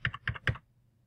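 Three quick, close keystrokes on a computer keyboard while entering a value into a spreadsheet, crisp taps about a fifth of a second apart, then silence.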